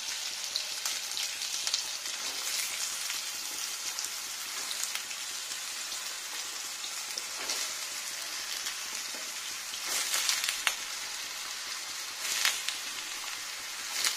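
Sliced potatoes and pointed gourd frying in hot white oil in a pan, a steady close sizzle with crackling bursts that flare up now and then, heard alone without talk.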